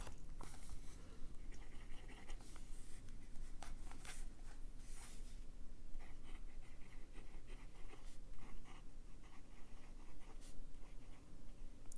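A fine-nib Pilot fountain pen scratches softly across paper in continuous, close writing strokes, quiet and steady with small scratchy bursts.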